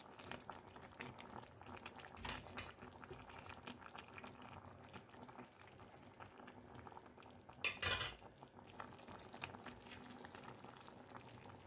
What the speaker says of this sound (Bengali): গুড়টা দিয়ে আমি এবার একটু হাই ফ্লেমে ফোটাবো